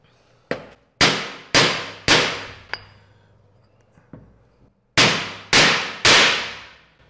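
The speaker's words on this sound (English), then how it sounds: "I'm going to tap it in nice and flat now with this aluminum block." Aluminum block tapping a seal into a gearbox end cap. Sharp, close metallic knocks come in clusters of three, with a couple of lighter taps between the groups and quiet gaps in between.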